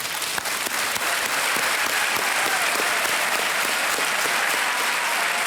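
A studio audience on the Hindi quiz show Kaun Banega Crorepati breaks into loud, dense applause that holds steady and full for the whole stretch, with no voices above it.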